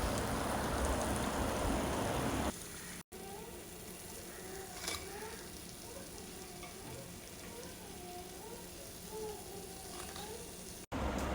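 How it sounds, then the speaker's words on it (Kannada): Crispy rava vada deep-frying in hot oil, a continuous bubbling sizzle heard close up, quieter after an opening louder burst, with a few brief soft knocks. "ಇದೇ ಥರ ನಾವು ಎಲ್ಲವನ್ನು ಫ್ರೈ ಮಾಡಿ ತೆಗೆಯುವ."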